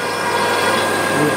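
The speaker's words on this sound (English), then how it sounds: "the smaller diameter will also start to drill, because it's going to drill the thread out with different threads" A drill bores the old threads out of a hole in a Ford engine block, giving a close, continuous grinding whine at an even pitch throughout, with no pause.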